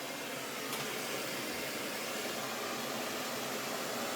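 MAPP gas torch burning while heating eyeglasses, a steady, continuous hiss and roar held at constant level for the whole stretch, close by and alone.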